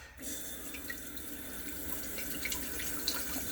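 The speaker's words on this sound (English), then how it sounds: "There's our faucet. Whew, hot water." Hot water streams from a faucet into a small homemade sink in an RV bathroom, a steady, fairly soft splashing flow with occasional drips, close and without talk.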